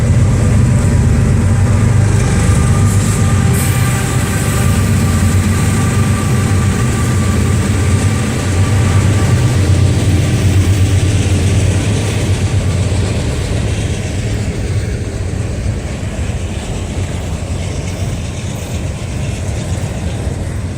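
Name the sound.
CSX auto rack freight train passing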